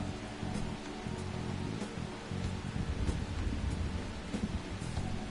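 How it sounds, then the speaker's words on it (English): Thunder rumbles in the background of Persona 5 Royal over steady, dense rain, with a continuous low roll and scattered crackling drops. The sound stays constant and moderately loud without any speech. "the thunder that's in the background in the game sounds pretty real"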